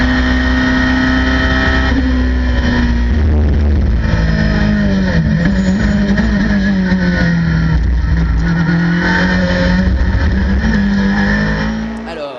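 Ferrari 458 GT race cars roar around a circuit during a Le Mans GT series race, engines howling loudly and steadily with shifting pitch, under continuous commentary.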